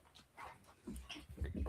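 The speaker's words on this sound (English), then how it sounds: "Y'all could probably hear her whining." A female puppy whines indoors in short, high-pitched bursts, growing louder toward the end, with some rustling and movement close by.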